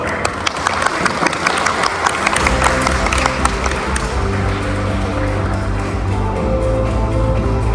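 A seated audience at an automaker's tech-day presentation applauds to welcome the next speaker. Crisp claps fill the opening seconds, then an upbeat music bed swells in and carries on beneath the fading applause.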